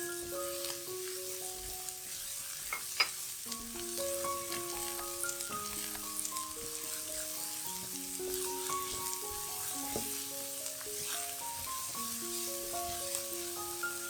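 Cauliflower stir-fried in a wok for a vegetarian dish, giving a steady sizzle with scattered clinks of a spatula against the pan, close and continuous.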